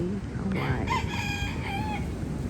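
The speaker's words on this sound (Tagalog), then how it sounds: "Yan, mga manok." A rooster crows with a long harmonic cock-a-doodle-doo against clucking chickens on Kauai, fairly close and over steady outdoor background noise, with a brief voice murmuring early on.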